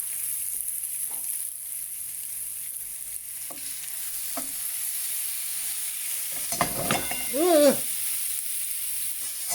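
Chopped fish and prawns for seafood pasta sizzling in a pan, a soft, steady hiss with occasional stirring scrapes, close and fairly quiet, with a brief groan from a voice near the end.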